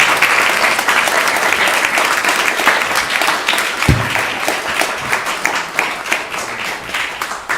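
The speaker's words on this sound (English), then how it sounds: "Please give them a big round of applause" Loud, full applause fills the ISKCON Phoenix temple as the congregation claps for volunteers, a thick continuous roar of many hands with one dull thump partway through.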